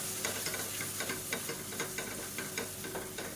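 Ground spices, turmeric and garam masala, sauté in a pan with a steady close sizzle and frying crackle, punctuated by regular light stirring clicks, no talk.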